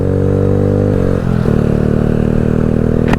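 A Honda Grom motorcycle riding along, its small engine droning loud and close with steady harmonic tones that dip briefly and then pick back up, plus wind rush.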